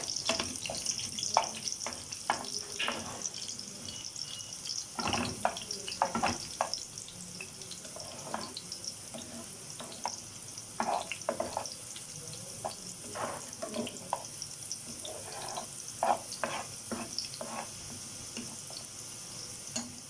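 Chopped onions sizzle steadily in hot ghee in a pan as they cook to light brown. The frying hiss stays moderate and even throughout, broken by scattered stirring scrapes and clicks.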